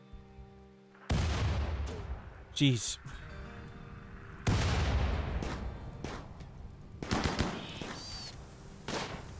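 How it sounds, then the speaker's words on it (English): Mortar fire in RimWorld, several heavy booming blasts spaced a few seconds apart with decaying rumbles, one short spoken exclamation among them. "I thought the mortar was going the whole time."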